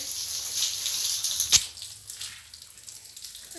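Water is poured back over a tiled kitchen floor during cleaning, a soft splashing hiss with a sharp splatter partway through, followed by fainter dripping and trickling.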